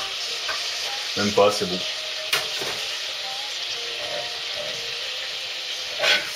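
Butter melting in a hot pan gives a steady frying sizzle, with a few brief clatters of stirring and a short stretch of quiet talk partway through.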